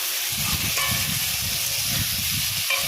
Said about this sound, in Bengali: এবার আলু ও পেঁপের টুকরো দিয়েও একটু কষাতে হবে।